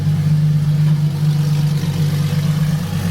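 A Porsche GT3 RS engine with a loud Z pipe exhaust idles and hums loudly up close, a steady low drone with a slight dip near the end.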